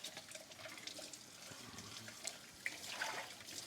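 Tap water pours steadily over a sink full of utensils during dish rinsing, a soft continuous stream with faint clinks of metal and cups, close by and fairly quiet.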